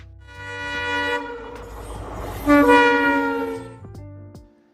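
A train horn blares loudly in long sustained blasts over the rumble of a passing train, the horn shifting pitch midway before fading out.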